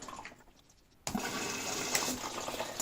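Water rushes into the compartments of a washing machine with two inlet valves, starting abruptly and running as a steady close gush with splashing.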